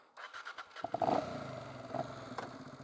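A Honda Bros NT400 motorcycle with the exhaust baffle removed fires up nearby: a few faint clicks and sputters, then a loud rough idle burbling with a brief rise partway through.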